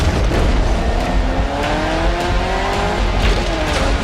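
A Lamborghini Urus SE SUV drives past, its engine loud and steady with a rising, straining tone and a faint tyre hiss. The sound continues without a break.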